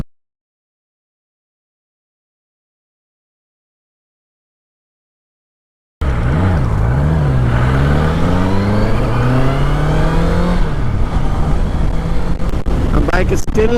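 After six seconds of silence, a touring Honda CBR650F motorcycle, still in its break-in period and loaded with luggage, drones steadily and rises in pitch as it accelerates, with wind rushing across the microphone.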